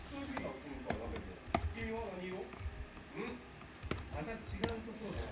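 Irregular clicks from a computer keyboard, soft and close, tapped out in uneven bursts underneath a person's low voice.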